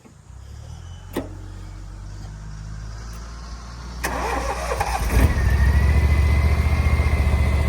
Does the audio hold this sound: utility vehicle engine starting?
yes